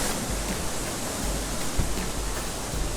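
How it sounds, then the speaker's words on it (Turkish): Small waterfalls and water running everywhere at Harbiye in Defne, Hatay, a steady, broad rushing wash of flowing water with no break, close and fairly loud, with no voices over it. "Ya arkadaşlar burada her yere şelale. Küçük büyük. Her yerden su akıyor."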